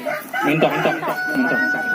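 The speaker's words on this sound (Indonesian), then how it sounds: "Kemudian di sebelah itu ada ternak ayam juga, mintok." Chickens on a village farm in Wonogiri, with a rooster crowing in short, wavering calls and clucking fowl close by, mixed with faint background voices.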